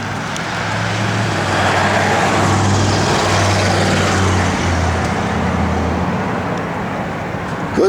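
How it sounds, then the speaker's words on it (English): A 1965 Chevrolet Impala SS engine rumbles steadily at close range with a low droning exhaust note, holding fairly constant throughout. "Good sounding exhaust."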